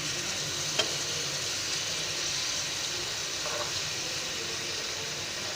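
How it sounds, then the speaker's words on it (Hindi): Marinated tikka boti pieces fry in a pan with a steady, even hiss close by, joined by one small clack early on, with no voices. "अब दोबारा से दूसरी साइड पे हम 7 मिनट फ्राई कर लेंगे।"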